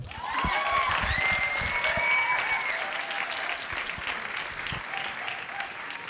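An audience breaks into loud, sustained clapping at a science comedy show, swelling quickly and then tapering slightly, with faint whistles and crowd noise over the dense applause.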